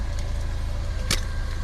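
Steady low rumble of road and engine noise inside a moving car, with a brief brighter rustle or click partway through and no talking.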